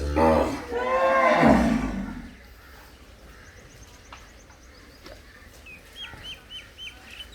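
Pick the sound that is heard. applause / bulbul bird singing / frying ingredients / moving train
bulbul bird singing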